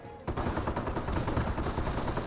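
Rifle squads firing on Panzer Grenadiers in the World War II strategy game Company of Heroes, a dense, continuous clatter of overlapping gunfire that starts abruptly and keeps rattling loudly throughout.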